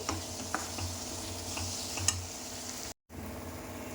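Chili powder fries in a pan for a potato and egg dish while a spoon stirs it, making repeated close scraping strokes over a soft, steady sizzle; the sound drops out briefly near the end.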